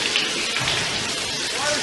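Shower water running in a movie scene, a steady dense hiss of spray falling on a surface, even and continuous throughout.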